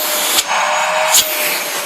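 A 2003 Numatic James JVH180 vacuum cleaner with a cheap-sounding motor runs steadily and loudly up close, its broadband whine briefly dipping twice.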